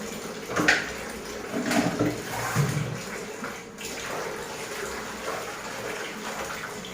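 Hot water from a geyser tap gushes steadily into a bucket or bath, a continuous close splashing rush with a few knocks early on.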